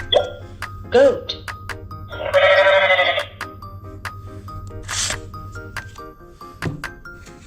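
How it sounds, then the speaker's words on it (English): A talking flash card toy plays a loud goat bleat in one wavering burst of about a second, between short electronic clicks and a toy voice speaking. "Goat."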